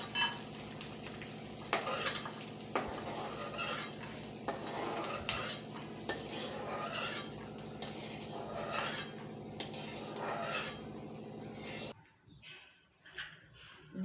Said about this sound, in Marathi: डिंक तळून झालाय.